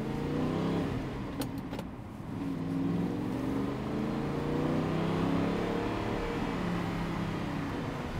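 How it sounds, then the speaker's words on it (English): An Audi R8 naturally aspirated V8 engine rumbling and revving, rising and falling in pitch with a deep throaty tone, moderately distant. "It's got the V8 naturally aspirated engine. Sounds incredible."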